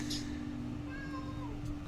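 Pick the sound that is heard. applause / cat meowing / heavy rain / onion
cat meowing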